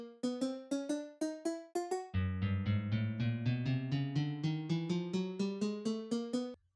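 Minecraft note block resting on wool, sounding a plucked guitar tone: a short run of separate plucks, then a dense, rapid stream of lower plucked notes rising steadily in pitch, warm and twangy with no talking.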